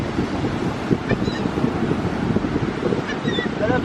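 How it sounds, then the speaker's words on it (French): Wind gusts by the sea on a Florida coast, a steady broadband rush with surf underneath, continuous and fairly loud throughout the few seconds, with no clear talk over it. "Il y a du vent, il y a du vent."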